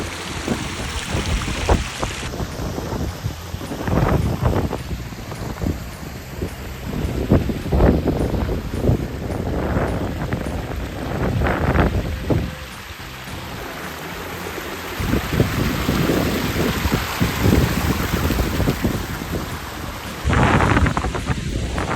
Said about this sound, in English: When you have water hitting rocks, it's going to have that higher pitch sound, and it's going to be a deeper sound when water goes into water.